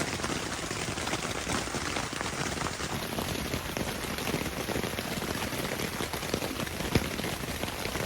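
Rain pours onto a hot tent in a storm on the grasslands, a dense, constant patter of drops drumming on the fabric without pause.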